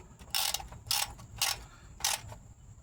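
Ratcheting wrench tightening the oil drain nut on a Ram 1500 pickup, heard as four short bursts of metallic clicking at steady intervals, close and fairly quiet, with no talking.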